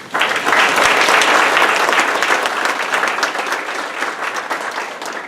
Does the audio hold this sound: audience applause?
yes